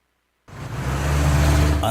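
Low engine rumble and road noise inside a moving car fade in after a brief silence, then hold steady and fairly loud at close range, with no talking.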